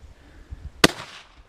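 One sharp gunshot cracks during an alligator hunt, loud and close, with a short ringing tail after faint low thumps just before it.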